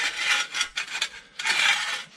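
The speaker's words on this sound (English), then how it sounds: "that noise is just the dust cover sliding on the rotor." A brake dust cover scrapes and rubs against the rotor of a car brake as it is worked loose, giving a raspy metallic grinding in two longer strokes with shorter scrapes between, close up and without talk.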